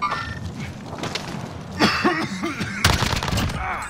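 Gunfire in Call of Duty Warzone on Rebirth Island: a few loud, close bursts of shooting rise out of a busy game soundscape, with one heavy burst near the middle and another soon after.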